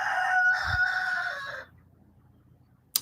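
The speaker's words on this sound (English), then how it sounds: "That's a rooster." A rooster lets out one long, loud crow lasting about a second and a half, near and strained at its peak, followed by quiet background and a sharp knock at the very end.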